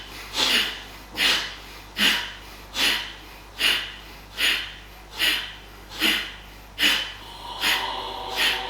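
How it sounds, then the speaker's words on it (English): Brisk, forceful exhalations through the nose during a yoga breathing exercise repeat in a steady rhythm, about eleven close, sharp puffs roughly every 0.75 seconds, with no talking over them. "Hear yourself breathing briskly."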